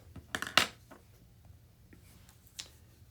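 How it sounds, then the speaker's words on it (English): Keys clatter on a computer keyboard while a graph is entered into an online graphing calculator, a quick burst of close, sharp clicks early on and then a few scattered taps. "sorry about this typing here"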